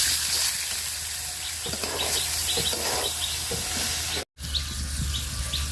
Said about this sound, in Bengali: এটাতে আমি চাউলি ভাজা নিব